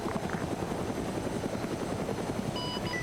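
Helicopter from a military shooter video game flying continuously nearby, a loud steady rotor thump with a rhythmic chop throughout, a few faint tonal beeps near the end.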